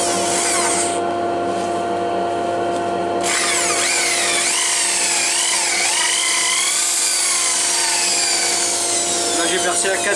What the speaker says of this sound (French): Alors je vais percer du coup de ce côté-là